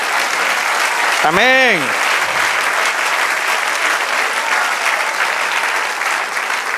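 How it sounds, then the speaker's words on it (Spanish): A church congregation applauds steadily throughout, a dense wash of clapping, while a single voice briefly calls out an amen early on. "Denle otro aplauso al Señor."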